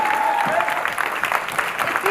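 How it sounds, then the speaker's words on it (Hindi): Audience applause after a motivational talk, a dense, steady wash of clapping from a crowd that carries on throughout, with a faint voice or tone briefly audible in the mix. "जोशीली टॉक्स के बाद एक जोशीली ताली"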